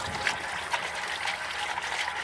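Water flowing from a water fountain, a steady close trickle and splash running continuously with small bubbling spurts.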